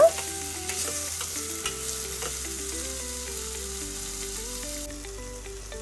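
Tomato pieces softening in a pan over a medium flame give a soft, constant sizzle, largely overlaid by gentle background music, with a louder knock right at the start.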